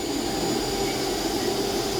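A Class 159 diesel train engine drones in a steady, loud, continuous roar with a constant mechanical whine, close by and unbroken, with no voices.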